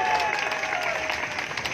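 A crowd at a political rally claps in a dense, steady burst of applause, loud and close throughout, with faint voices mixed in.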